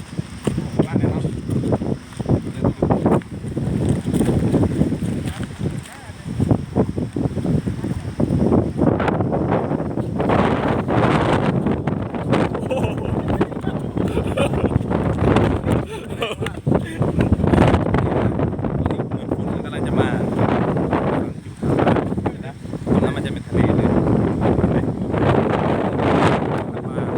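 Strong coastal wind buffets the microphone in constant gusty roars along a Ranong shoreline where seawater flows into a freshwater lagoon, with people talking through it.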